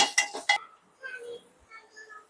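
A spoon clinking against a cooking pot as garam masala is stirred into kadhi, three quick metallic taps close up followed by softer faint scraping and stirring.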